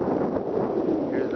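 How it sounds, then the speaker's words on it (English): Steady wind gusts across an open pier at Jensen Beach, Florida, a continuous rushing buffet on the microphone that holds at an even, fairly loud level for the whole moment, with no voice over it. "It's kind of windy"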